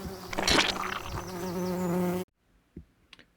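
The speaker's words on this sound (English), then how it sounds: "Bees." Bees buzz loudly and close among garden flowers, a steady droning hum for about two seconds that cuts off abruptly, leaving near silence with a few faint clicks.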